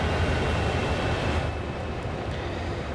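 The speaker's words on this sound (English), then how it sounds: "This is an American locomotive, obviously." An American CSX locomotive rumbles in a dense, steady low roar, close and loud, fading slightly partway through with no talk.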